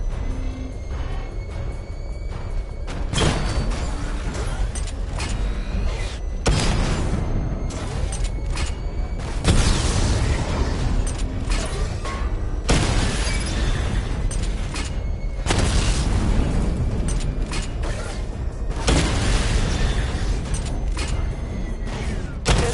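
A missile barrage in Batman Arkham Knight sets off repeated heavy explosions, deep booming bursts arriving every few seconds over a constant rumbling game soundscape.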